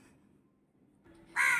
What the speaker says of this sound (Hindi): ऐसे ही बैठ के यहाँ काँव काँव करता रहता है